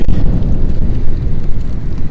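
Strong wind ahead of rain in Texarkana buffets the microphone in a loud, continuous low roar with gusty swells and no voices.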